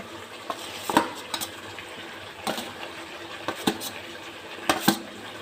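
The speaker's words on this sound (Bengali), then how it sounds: "চিকেনের যে মশলাগুলো ভেজে ভেজে রাখা হয়েছে এটা দেওয়া হচ্ছে" Fried chicken pieces and pre-fried spice mixture for chicken biryani are stirred together in a pot, with a low background sizzle and several sharp metallic clinks and scrapes of a spoon against the pot at irregular intervals.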